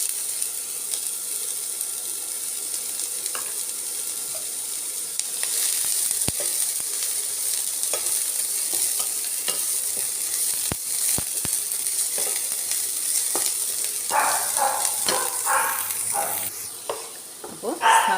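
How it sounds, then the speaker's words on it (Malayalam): Onions sauté in hot oil in a pan, a steady sizzle that grows denser partway through, with sharp stirring clicks and a burst of clattering scrapes near the end. "എന്നിട്ട് നമുക്ക് സവാളയൊന്ന് വഴറ്റി എടുക്കാം."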